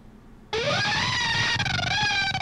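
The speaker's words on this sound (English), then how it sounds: "this Gate Lab plugin is what's making it kind of go in and out, side to side as well" A distorted horror film score run through the Gate Lab gating plugin, bursting in abruptly as a harsh, dense wall of tones that pulses in and out and side to side, loud and sustained without any voices.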